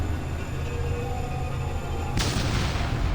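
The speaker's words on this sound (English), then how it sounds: "A giant firework exploded." A giant firework in a fan-made Poppy Playtime horror game bursts suddenly after a low droning ambience, a loud broadband blast that spreads out and rumbles on to the end.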